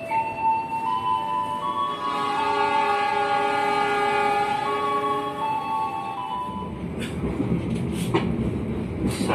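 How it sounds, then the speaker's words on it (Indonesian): Rangga Jati passenger train arriving at Kutoarjo station in Indonesia, a long loud multi-tone horn blast lasting several seconds, then rumbling wheels and rail noise as the train rolls in. "Saat lagi kereta api Rangga Jati akan tiba dan berhenti di stasiun Kuto Harjo."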